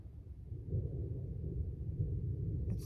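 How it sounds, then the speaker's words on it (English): Low, rolling rumble of thunder building and holding steady, with a faint clatter near the end, on a windy Colorado trail. "It's thundering."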